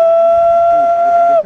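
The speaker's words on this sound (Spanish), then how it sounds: "En principio hicimos un silbato que la idea es que termine siendo una ocarina" Homemade clay whistle, a first step toward an ocarina, blown in one loud, steady, pure tone held close up for over a second before cutting off.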